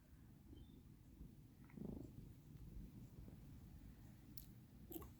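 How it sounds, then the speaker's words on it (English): A cat purrs in a low, steady rumble close by, faint and continuous, with a few small clicks and shuffles. "Oh, listen to that purring."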